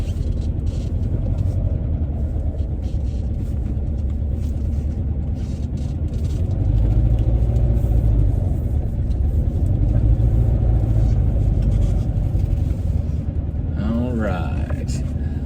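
A 1964 Porsche 356C, numbers matching, rumbles steadily at low speed as it is driven back in and parked, its engine swelling a little partway through, with people talking over it and a brief higher tone near the end.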